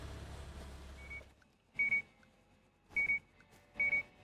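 Three short, bright electronic beeps sound at regular intervals in a Gas Station Simulator video game, clear and isolated after a brief stretch of low background noise.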